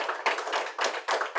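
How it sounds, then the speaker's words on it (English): Hands clapping for a conference panel in several short bursts, fairly close and loud, with brief gaps between rounds. "Please give a warm round of applause to our panel"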